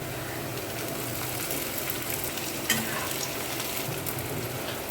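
Onion sautéing in a pan, with tomato added next, for a dry green bean sabzi: a steady broadband sizzle runs the whole time with no talk, and one brief sharp clink near the middle.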